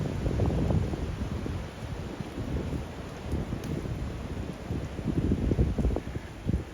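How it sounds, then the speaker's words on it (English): Strong gusts of wind buffet the microphone on a hike to Calista Falls in Big South Fork, a rough roaring rumble that rises and falls in surges. "This wind is horrible."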